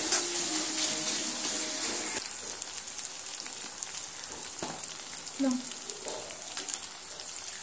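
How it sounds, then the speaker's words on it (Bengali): Spice paste with turmeric sautés in a pan, giving a soft, crackling sizzle with occasional stirring clicks and scrapes, close but fairly quiet, with no talk. "সমস্ত মশলাটা আমি সুন্দর করে একটু মিনিট সময় নিয়ে কষিয়ে নেব"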